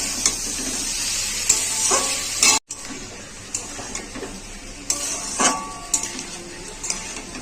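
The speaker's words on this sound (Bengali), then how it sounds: "আর একটু লঙ্কার গুঁড়ো দিয়ে দেবো, অল্প, বেশি দেবো না। আমি কাঁচা লঙ্কা দিয়েছি। এটাকে ভালো করে আমি কষিয়ে নেবো।" Spice paste of cumin paste, chili powder and green chilies sautéing in a pan for a rohu fish curry with potato and pointed gourd, with a steady sizzle and repeated scraping stirs, briefly cut by a short gap of silence.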